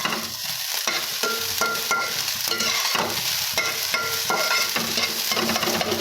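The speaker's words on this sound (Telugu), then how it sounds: "Fish egg fry." Fish eggs fry in a pan with a dense, steady sizzle, punctuated by repeated stirring scrapes and clinks of a utensil, close and continuous without speech.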